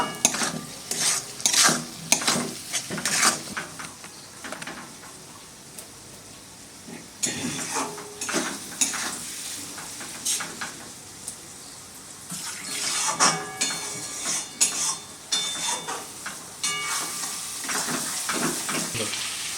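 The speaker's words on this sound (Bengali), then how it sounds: "এখন আমি পেঁপে কুচিগুলো দিয়ে দিয়েছি, একটু নেড়ে নেব।" Chopped papaya being stirred into spice paste in a pan for a duck curry, repeated scraping stirs in bursts over a soft sizzle, with quieter pauses between them.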